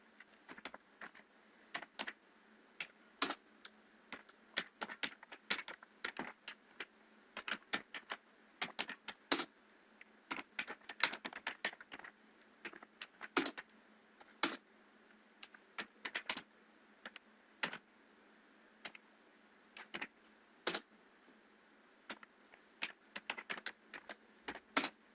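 Close keystrokes clatter on a computer keyboard in irregular bursts and pauses while C code for an assignment operator is typed, with no talking.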